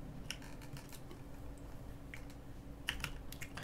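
Typing a command on a computer keyboard during a San Andreas Multiplayer game session: quiet, irregular key clicks in small bursts over a low steady background hum.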